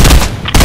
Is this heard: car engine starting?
no